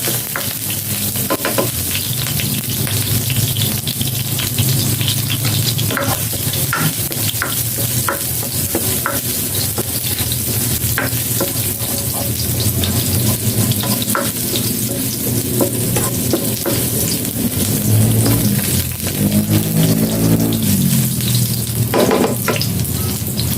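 Garlic frying in a pan for sautéed kangkong, a loud, continuous close sizzle with occasional stirring scrapes throughout.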